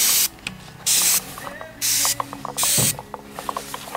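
Sea glass spray paint is applied indoors in a light coat onto a nautical ornament: four close, loud hissing bursts of about half a second each, with faint clicks and handling sounds between them.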